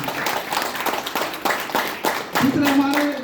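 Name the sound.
audience applause welcoming a speaker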